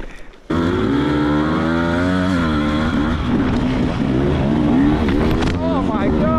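An enduro motorcycle engine drones loudly and steadily throughout, its pitch rising and falling as the bike skids and slides along a trail, close to the listener, with brief wind noise in the opening half-second.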